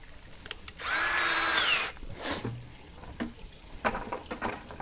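A power drill fitted with a small bit whirs for about a second, rising and then stopping, while building a DIY bee vacuum, followed by a few clicks and light handling noises nearby.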